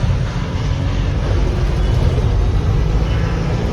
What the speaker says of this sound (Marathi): डिपार्टमेंटची गाडी चालू आहे पुढं